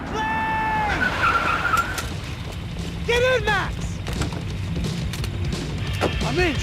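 Car tyres skidding and squealing during a getaway drive in Max Payne 3, with several rising and falling screeches over a loud, continuous engine and action din, the longest near the start and shorter bursts later.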